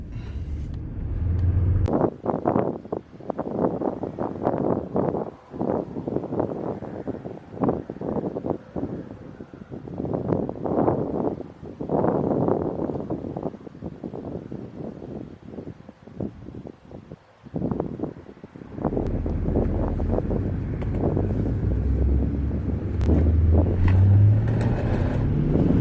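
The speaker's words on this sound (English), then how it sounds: "We're gonna drag you the Duramax, see how this thing does." A Duramax diesel pickup truck in a drag run on an empty rural road, with engine roar surging in bursts and buffeted by heavy wind noise on the microphone.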